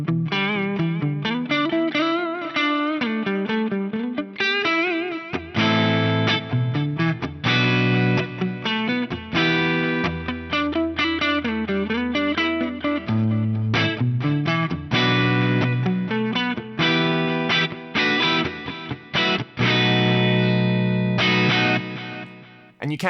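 A Fractal-processed electric guitar plays a melodic line through large room reverb and delay, with echoing repeats trailing the notes and sustained chords swelling over a low bass tone before fading out at the end.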